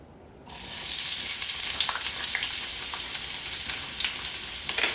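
Long-cut onion sautéing with garlic in a hot pan for Cuban vaca frita, a loud steady close sizzle that starts abruptly after a short quiet moment and continues evenly with crackling pops, no talk.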